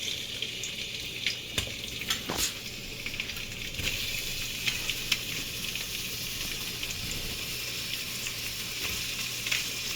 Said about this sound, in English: the first thing I'm going to put in is I'm going to put in my onions